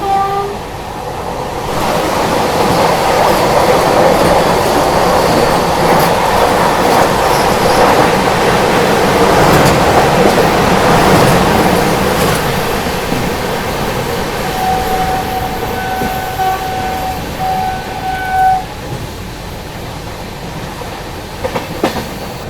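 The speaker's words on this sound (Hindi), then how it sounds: "ये वंदे भारत थी आप लोगों की हुजूर साहिब नांदेड़ छत्रपति शिवाजी महाराज टर्मिनस वंदे भारत एक्सप्रेस" A Vande Bharat Express running from Hazur Sahib Nanded to Chhatrapati Shivaji Maharaj Terminus rushes past, a loud, steady roar with rail clatter and brief wheel squeals lasting the whole stretch, easing slightly near the end.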